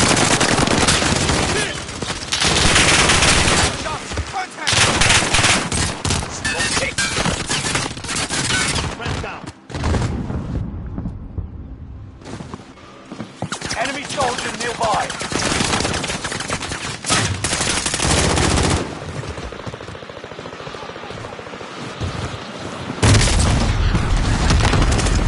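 Dense video game gunfire, rapid bursts and heavy booms packed together over a long stretch, loud and close, with brief lulls before the shooting resumes.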